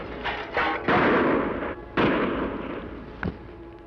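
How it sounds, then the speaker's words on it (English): Three sharp gunshots ring out in an old Western radio drama, two close together and then a third, each with a loud echoing tail, followed by a fainter crack. "How many shots did you count?"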